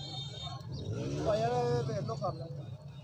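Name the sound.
pigeons at Lahore Lari Adda pigeon market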